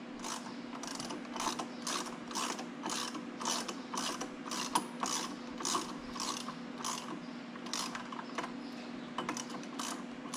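A ratchet wrench works loose a turbo line on a Case 305, giving a steady run of close, crisp clicking strokes over a constant low mechanical hum.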